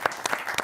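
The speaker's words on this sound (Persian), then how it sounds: "تشویقش کنید" Studio audience applause on a Persian talk show, a short burst of scattered claps from a small crowd, brief and moderately loud.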